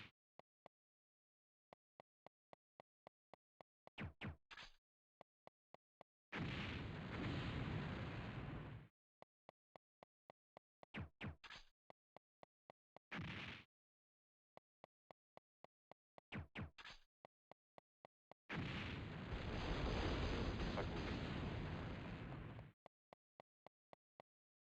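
Bomb explosions in a PlayStation demo video game, two long roaring blasts and several shorter bursts punctuated by rapid sharp clicks and pops, loud and close with no talking.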